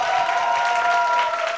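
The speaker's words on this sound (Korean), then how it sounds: "박수 한번 부탁드리겠습니다." Studio audience applause on a Korean talk show, a brief burst of clapping from a small crowd with a sustained tonal hum running beneath it, steady and fairly loud throughout.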